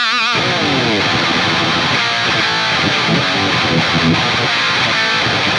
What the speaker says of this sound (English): check out the new Violet pedal by JHS